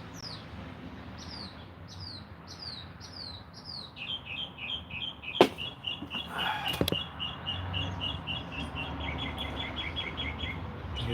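Birds chirp in quick repeated phrases, a clear series of high tweets that gives way to a busier, faster chirping chorus, with a couple of sharp knocks.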